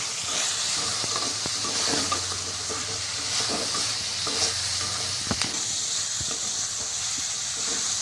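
Prawn coconut curry masala stirred in a pan, a steady sizzle and soft scraping of the spoon running continuously and close, with a couple of sharper knocks near the end.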